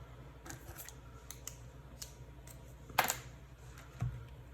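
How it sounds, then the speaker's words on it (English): Quiet snips of scissors cutting paper, a few short crisp clicks close by, with one sharper cut near the end. "I'm gonna have to get a smaller pair of scissors to cut that"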